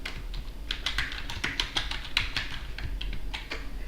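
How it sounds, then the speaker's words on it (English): Rapid, uneven clatter of keys being typed on a computer keyboard while entering a short two-word name in a software setup screen, close and steady with no talking. "I'll just type that one as well."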